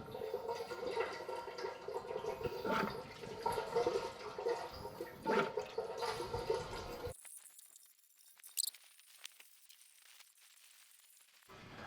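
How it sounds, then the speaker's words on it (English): Used engine oil from a Lexus runs in a steady trickling stream into a catch can in a workshop, then gives way to a near-silent pause broken by a few faint drips. "I let it drip for another little bit"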